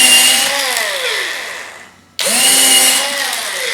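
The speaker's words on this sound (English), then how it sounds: "Now I'm just going to put in 4 screws on this" A power drill drives screws into a wooden bowl blank mounted on a lathe faceplate. Two whining bursts rise and fall in pitch, split by a short silent pause, loud and close with no talking.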